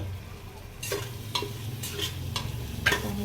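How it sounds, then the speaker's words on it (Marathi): Chutney masala stirred and fried in hot oil for soybean rice, with a steady low sizzle and several sharp stirring scrapes at intervals, close and moderately loud with no talking. "लालसर थोडा वेळ छान असं तेलात परतून घ्यायचं"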